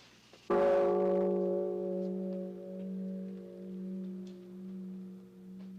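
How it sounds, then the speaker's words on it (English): A large bronze Japanese temple bell, hand-cast by a master bellmaker, is struck once, ringing out loud and close before a long, rich hum that slowly fades with gentle wavering beats. "The sound of the bell, the voice of Buddha."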